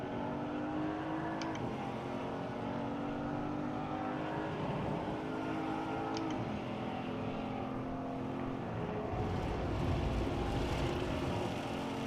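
Race car engine in a racing video game, a steady loud drone with shifting revs and gear changes, continuous throughout with no talk.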